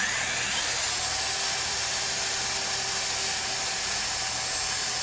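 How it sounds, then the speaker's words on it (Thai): A worn, fairly dull hole saw on a drill set to drill-only mode (no hammer) bores a hole for a lever door handle, giving a steady, loud whining grind throughout with no speech. "ทีนี้เราเจาะนะครับนะเนื่องจากว่าฮูซอนี่มันไม่ค่อยคมแล้วนะฮะ"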